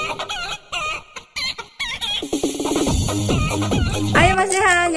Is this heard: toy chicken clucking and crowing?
yes